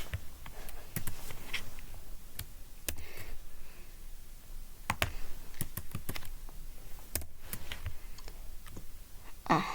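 Quiet typing on a computer keyboard while writing CSS code, irregular clusters of soft key clicks with short pauses between bursts.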